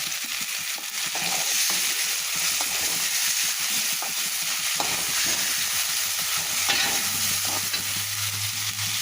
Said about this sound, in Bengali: কড়াইতে সরিষার তেল দিয়ে পেঁয়াজ দিয়ে দিয়েছি একটু ভেজে নিয়েছি বেশি ভাজবো না চিংড়ি মাছ কষিয়ে নেবো চিংড়ি মাছগুলো দিয়ে দিলাম